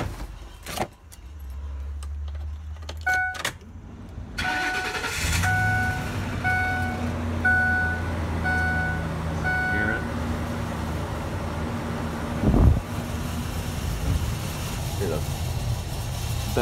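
A Ford E250 van, keys jangling before the engine cranks and catches, then idles steadily with a door chime beeping in a repeating pattern and a brief rev near the end; a person talks over it.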